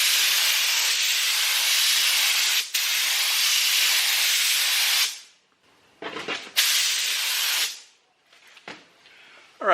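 A paint spray gun sprays acetone onto cardboard in long bursts of loud, airy hissing, cutting off abruptly between pulls with short quiet gaps and a few shorter bursts.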